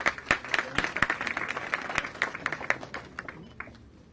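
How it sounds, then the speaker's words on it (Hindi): Scattered clapping from an audience at a Jaipur government award ceremony, a handful of distinct claps with sharp peaks over a steady murmur, moderately close and fading slightly toward the end. "तालियां बजाइए, तालियां।"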